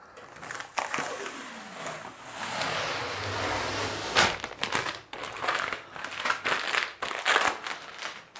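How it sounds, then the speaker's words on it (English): Old screen printing pallet tape is peeled and crumpled off a pallet, producing close crackling rips and crinkling bursts that rise and fall over several seconds, with no talking. "First, we'll take out the pallet tape."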